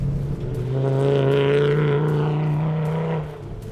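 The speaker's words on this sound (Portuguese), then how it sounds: "O som do carro é maravilhoso." A Volvo S60 rally recce car engine revs up strongly and holds a loud, rising growl for a few seconds before easing off, close and dominant.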